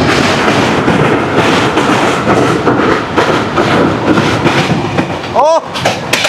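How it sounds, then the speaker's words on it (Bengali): The Kanchan Kanya Express rumbles loudly across a river bridge, a dense continuous roar of wheels and clattering rails with rhythmic clicks, and a brief high metallic squeal near the end. "বিশ নদীর ওপর দিয়ে আমরা এখন ক্রস করছি।"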